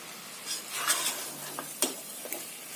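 Spiced biryani masala with curd and garam masala being stirred in a pot, a soft sizzle with intermittent scraping strokes of a spoon against the metal, close and fairly quiet.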